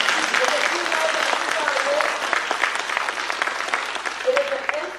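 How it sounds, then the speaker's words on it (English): Audience at a graduation ceremony clapping steadily for the families, dense sustained applause with a few whistles and cheers over it throughout. "let's give your loved ones a round of applause"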